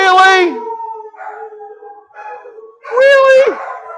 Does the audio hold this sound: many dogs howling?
yes